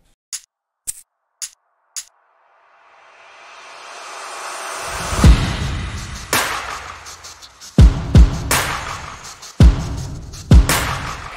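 Layered pop drums in a song bridge: a few dry clicks, then a noisy riser swells for several seconds and breaks into heavy booming hits that repeat with further rising sweeps between them.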